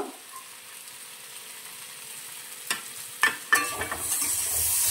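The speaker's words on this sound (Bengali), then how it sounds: "আমি সুন্দর করে নাড়াচাড়া করবো" Pointed gourd and prawn curry frying in a pan while being stirred, a low steady sizzle broken by a few sharp scraping clatters near the end, with no one talking.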